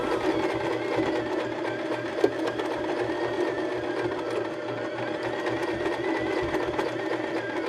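A sewing machine back stitches through cork fabric at the button casing of a pillow, running as a steady, close mechanical whir with one small click partway through and no talk.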